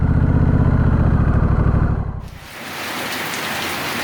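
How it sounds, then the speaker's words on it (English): Heavy storm rain pounds down under a gazebo, a loud steady hiss of drops on the surface that dips briefly before resuming, with a low rumbling layer underneath in the first half. "The rain found me. Started storming pretty good here a second ago."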